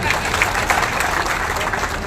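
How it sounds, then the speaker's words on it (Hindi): A large crowd claps steadily and loudly at a Rajput community mass gathering, a dense continuous applause with talk mixed underneath. "इसके लिए ताली बजाओ जोर से"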